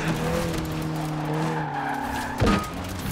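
Virtual VW Scirocco in Forza Horizon 4 with a tuned engine, its steady droning note holding under a tyre skid and squeal, then a sharp louder burst near the end.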